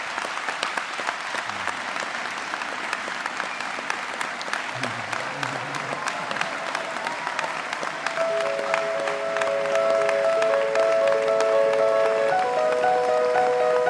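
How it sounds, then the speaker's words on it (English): A large audience gives sustained applause for graduates at a graduation ceremony, steady dense clapping throughout that swells slightly louder near the end as processional music begins underneath. "please join me for one final round of applause for our 2023 graduates"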